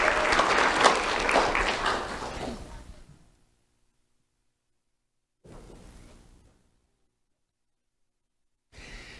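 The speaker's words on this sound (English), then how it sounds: "Let's have a round of applause for Pedro Gomez." Audience applause at a sheriff's office community awards ceremony: a loud burst of many hands clapping that fades out after about three seconds, followed by a short softer patch of clapping and a brief return at the end.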